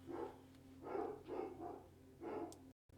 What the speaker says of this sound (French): les chiens sont énervés, ils ont vu un autre chien